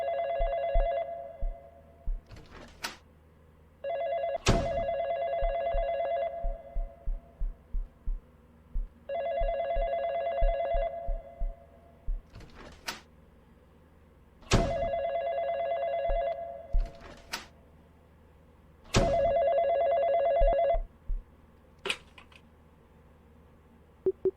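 A telephone rings in a first-person horror game, Ridgewood Road: five bursts of a ringing bell spaced several seconds apart, each with a sharp click at its start, loud and close, with no talk.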